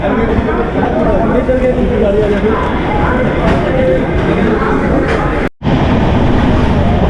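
A passenger train rolls along past Kanpur on a long journey toward Nepal, giving a steady, loud rumble and rattle of carriages, with voices talking over the noise and one brief dropout near the end.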